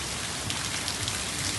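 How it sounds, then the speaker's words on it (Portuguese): Heavy rain pours down steadily in Mamanguape, Paraíba, a dense, continuous hiss of drops drumming on surfaces. "Desde ontem, muita chuva mesmo, graças a Deus."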